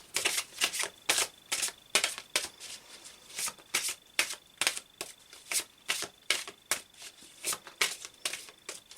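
Oracle cards of the Archangel Michael are shuffled in quick repeated riffling bursts, crisp papery slaps in a steady rhythm, close and clear with no talking.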